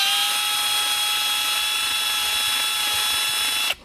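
A Hercules 20V 1/2-inch drive impact wrench spinning freely on setting 2, a loud steady high motor whine held for several seconds, then cutting off abruptly at the end.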